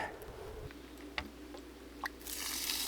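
Water running into a retractable garden hose reel, faint gurgling with a couple of sharp drips or ticks, then a louder rushing hiss building at the end as flow picks up, heard alone nearby.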